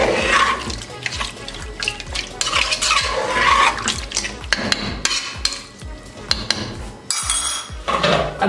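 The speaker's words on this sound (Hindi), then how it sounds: "अब इसको अच्छे से मिक्स कर लेंगे।" Goat stew with water being stirred in a metal pot, a spoon scraping and knocking against the sides in repeated strokes with wet sloshing, close and fairly busy.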